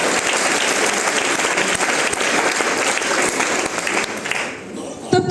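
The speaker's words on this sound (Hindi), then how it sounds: "चलिए इस हमारे नए परिवार के लिए एक जबरदस्त ताली।" Hearty applause from the audience at a Friday training session in Muzaffarpur, welcoming first-time attendees; dense steady clapping fills most of the moment, then thins and fades near the end.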